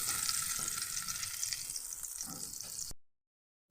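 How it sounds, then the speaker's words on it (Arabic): Two spoons of oil and two butter cubes heating in a wok, a soft steady sizzle and hiss up close that cuts off abruptly into silence near the end. "هحط كده معلقتين زيت، واحط مكعبين زبدة، واسيبهم كده يسخنوا شوية"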